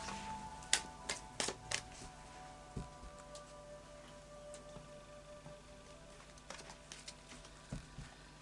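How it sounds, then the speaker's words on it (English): Soft, irregular clicks and flicks of tarot cards being shuffled close by, with scattered sharp snaps over a quiet background hum. "So I'll just do a final shuffle of the Tarot of Dreams."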